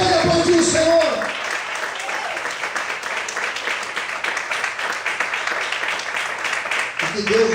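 A crowd of worshippers in a church claps steadily and strongly for several seconds, with a preacher speaking over the applause at the beginning and again as it continues.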